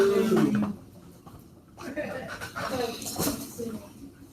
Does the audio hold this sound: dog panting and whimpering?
yes